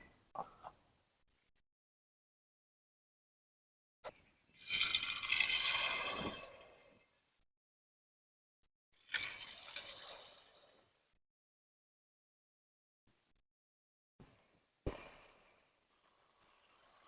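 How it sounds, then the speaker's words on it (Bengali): Battered kakrol (spiny gourd) slices going one at a time into hot oil in a kadai: separate bursts of crackling sizzle that flare up, fade, and leave quiet gaps between them. "এবারে একটা এক করে কাঁকরোলগুলো ভেজে নেবো।"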